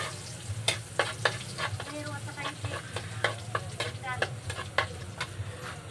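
Garlic fries in a pan for lumpiang toge, a steady close sizzle with scattered sharp clicks and scrapes of stirring throughout, no voices.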